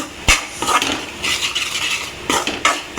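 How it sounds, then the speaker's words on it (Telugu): A metal spoon stirs chicken pieces into spices in a pan for chicken pickle. It makes close, loud scraping clinks in irregular bursts against the pan, with no talking. "ఇప్పుడు ముక్కలు అనేది కలుపుతున్నాను"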